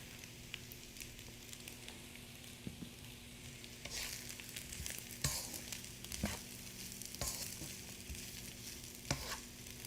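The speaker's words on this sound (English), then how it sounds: "So she's frying on like really medium heat, so that way the rice does not get burned" Rice sizzling and frying over medium heat in a pan for chili beef and shrimp fried rice, a constant crackling hiss with occasional louder scrapes and stirring clicks.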